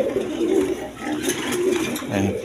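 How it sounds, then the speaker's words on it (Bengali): High-flying Giribaz pigeons coo softly in a short burst of low, throaty calls close by. "এক পেয়ার দেখেন হাই ফ্লাইং গিরিবাস কবুতর আছে"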